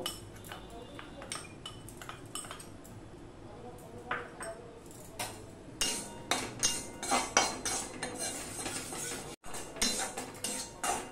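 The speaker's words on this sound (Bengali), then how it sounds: "সেই বেসনটাকে আমি শুকনো খোলায় ভেজে নেব।" Gram flour is dry-roasted in a wok, and a metal spoon scrapes and taps against the pan in irregular bursts. The clinks get busier and louder toward the end, with quiet stretches between them.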